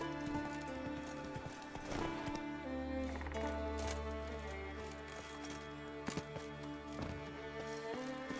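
Roach, a horse in the video game The Witcher 3, trots with steady clip-clop hoofbeats over a low droning game ambience and musical tones, moderately loud and without talk.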